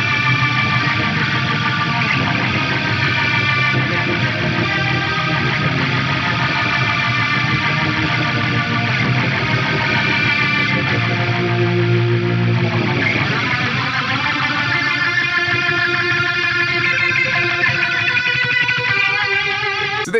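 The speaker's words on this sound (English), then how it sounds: "I'm gonna place a rotary block on there." A heavily processed electric guitar played through a rotary speaker effect on a Fractal FM9 swirls and warbles with a rotating, pulsing modulation, playing continuously and loudly with no pauses.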